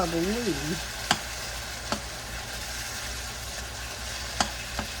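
Chicken breast and ground turkey stir-fry in a hot pan. A steady, close sizzle runs throughout, with a few sharp clicks of a utensil against the pan.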